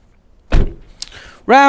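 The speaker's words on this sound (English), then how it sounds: "So let's shut the door" A campervan door, on a Camperking Monte Carlo motorhome, pulled shut with one solid thud and a brief rattle, followed by a voice starting to speak nearby.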